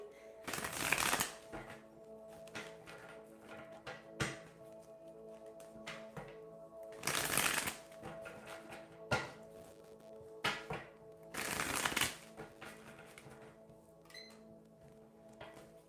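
Tarot cards are shuffled in three distinct riffling bursts, close and crisp, with light taps and handling noises in between.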